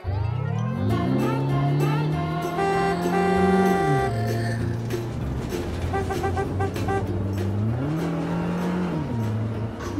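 Racing cars in a car cartoon playing nearby, engines revving up and down in rising and falling sweeps, loud and continuous with no talking.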